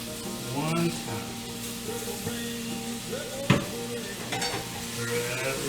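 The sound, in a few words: stirring food coated with honey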